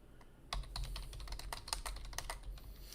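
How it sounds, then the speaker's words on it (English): Someone types on a computer keyboard: after a brief quiet start, a quick flurry of close, light key clicks runs steadily for a couple of seconds over a low room hum. "I was typing something anyways."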